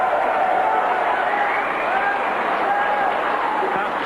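A snooker crowd applauds and cheers loudly and continuously after Stephen Hendry's 147 maximum break, with a commentator speaking over the ovation.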